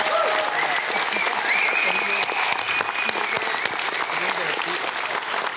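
Sustained audience applause at a motivational talk, a dense, steady clatter of many hands clapping close by for several seconds, with a few voices mixed in.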